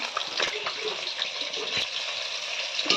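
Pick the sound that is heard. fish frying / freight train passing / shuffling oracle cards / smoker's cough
fish frying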